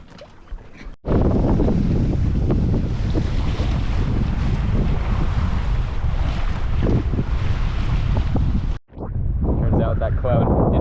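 Strong wind rushes and buffets the microphone aboard an engineless sailboat at sea on a passage to Fiji, steady and loud for most of the stretch with water washing along the hull, briefly cutting out twice.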